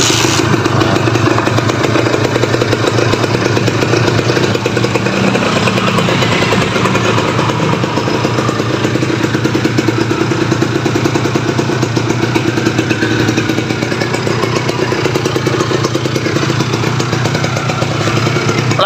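Kawasaki Ninja FI motorcycle engine idling steadily up close, a loud continuous mechanical rumble with fine clatter and no talk over it.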